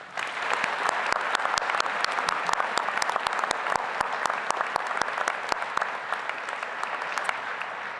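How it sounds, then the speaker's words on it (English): A large convocation crowd applauds staff in a university hall, dense steady clapping filling the space with sharp individual claps standing out, sustained throughout. "let's give them all a big applause"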